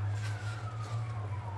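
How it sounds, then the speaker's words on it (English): An emergency vehicle siren coming down a street wails steadily in the distance, its gliding tone slowly falling over a low rumbling hum, with no talking. "I can tell that's coming down my street because it is very loud"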